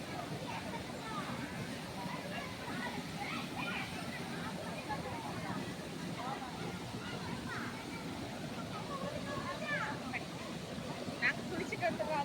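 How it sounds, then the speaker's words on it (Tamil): Thengai Uruli waterfall in Manjolai pours in a continuous broad rush of water, steady and close, with people talking over it. "இதுக்கு பேர் தான் தேங்காய் உருளி அருவி"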